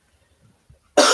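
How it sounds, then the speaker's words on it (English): A single sharp cough bursts out at the very end after near silence, close and loud. "So you still got the cough."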